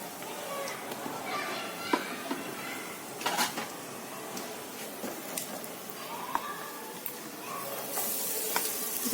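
Pea filling for matar potli fries in oil with cumin and kasuri methi, giving a steady close sizzle with scraping stirs and occasional clinks of a utensil on the pan, while a voice talks intermittently.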